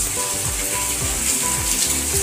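Food fries in oil in a pan as a loud, dense sizzle throughout, with faint scraping stirs underneath and no talking.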